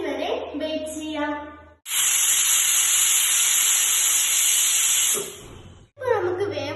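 A pressure cooker on a stove lets out one loud, steady hissing steam whistle that lasts about three seconds, with quieter kitchen sounds before and after.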